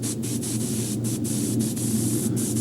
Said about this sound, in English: And I start the airbrush